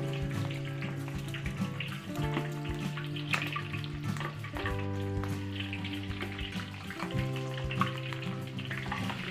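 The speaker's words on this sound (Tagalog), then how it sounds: "nag-init po tayo dito ng mantika at iprito natin yung ating pamputserong baka" Pieces of beef for Filipino pochero frying in hot cooking oil, a steady dense sizzle with crackling pops throughout, accompanied by clinking of pans or utensils, with no talking.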